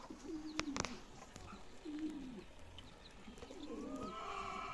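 Pigeons of about four to five months old coo in a breeding loft on a hot day, low rolling coos repeating several times over steady background noise, with sharp clicks and a brief higher call near the end.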